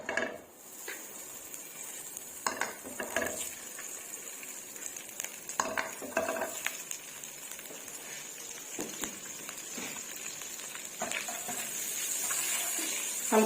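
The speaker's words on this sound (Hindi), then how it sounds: "तो बटर हमारा मेल्ट हो गया है।" A few spoonfuls of butter melt in a hot kadhai before dry fruits are roasted for panjiri. A quiet, soft sizzle is broken by scattered clicks and scrapes of a spoon.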